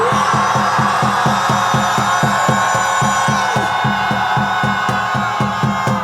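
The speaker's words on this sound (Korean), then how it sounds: "이 승리를 믿으신다면 전방을 향해 함성 5초간 발사하겠습니다." A large crowd at an outdoor political rally raises a sustained roar of shouting and cheering, loud and continuous for several seconds, with a rhythmic pulsing beat running underneath.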